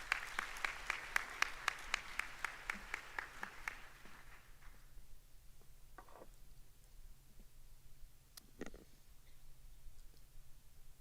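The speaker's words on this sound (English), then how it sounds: "Let's give him a round of applause." Applause at a school induction ceremony at Friendship Missionary Baptist Church: a brisk burst of clapping from an audience, a few sharp isolated claps leading in, fading out within about four seconds into quiet room noise with scattered faint sounds.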